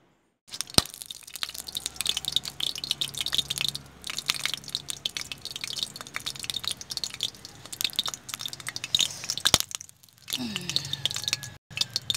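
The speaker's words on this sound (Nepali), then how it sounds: "घिउमा चाहिँ अलिकति पानी परेछ त्यही भएर घिउ पड्केको छ" Ghee heating in a pan over a fire, with a little water fallen into it, crackles and spits in a dense run of sharp pops and ticks that continues steadily for about twelve seconds, close and moderately loud.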